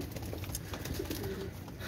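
A Pakistani pigeon gives a soft, brief coo in a loft of tagged birds, one low throaty call against faint background hiss.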